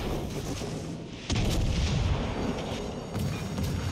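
Secondary guns of a warship blasting away in the naval game World of Warships Legends, heard as a dense, continuous rumble of booming gunfire that swells louder partway through, with no voices.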